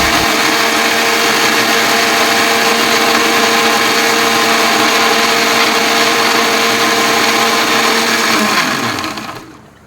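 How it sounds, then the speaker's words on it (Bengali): Kitchen mixer grinder whirring loudly and steadily as it grinds onion, tomato and ginger into a spice paste for fish curry, running continuously before winding down at the end. "মাছের ঝোলের মশলাটা পেঁয়াজ, টমেটো, আদা একসাথে বেটে নিলাম"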